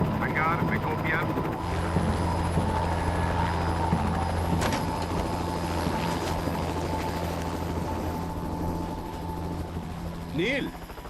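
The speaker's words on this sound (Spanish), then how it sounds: "Un helicóptero recogió a Blake y se dirigió rápido al lugar." A helicopter flies close over snowy Alaskan wilderness with a loud, steady rotor drone and whine, while voices talk over it.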